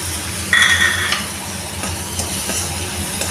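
Chopped tomato stirred into hot oil in a pan for chicken pasta, a soft steady sizzle with a spoon scraping and clinking against the metal, close up.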